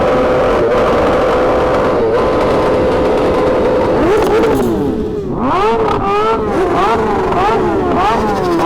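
Superbike engines rev repeatedly at a busy night bike meet, loud and close, with rising and falling throttle blips stacked over a constant engine roar and crowd noise, and voices talking throughout.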